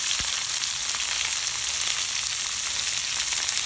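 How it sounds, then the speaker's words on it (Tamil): Mustard seeds, cumin, fennel, dried red chillies and curry leaves crackle in hot oil, a continuous bright, close sizzle with no voices. "இப்போ கடுகு, பெரிய சீரகம், சின்ன சீரகம் வடிக்க போட்டிருப்பேன். செத்த மிளகாய் போட்டுட்டு கருவேப்பிலையும்"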